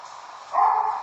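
A single short bark from a house dog, close and clear, with a brief second yelp following over a low steady room hum.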